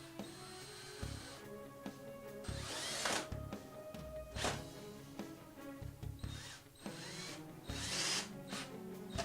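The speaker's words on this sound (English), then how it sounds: "So we're going to pre-drill the bottom piece and the side piece here." A power drill whirs in several short bursts, pre-drilling wood pieces for screws, bit grinding into wood between pauses, with clicks and handling noise in the gaps.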